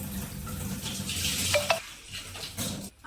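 Lentils are swished and rinsed in water in a pot, with continuous close sloshing and a few light clinks of metal against the vessel.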